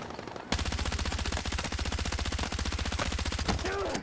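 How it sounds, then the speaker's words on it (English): After a brief quiet start, a long unbroken burst of rapid automatic fire from the video game Battlefield 6 hammers away loud and steady at close range, with a short pause near the end before the shooting resumes. "51 bullets to kill that guy."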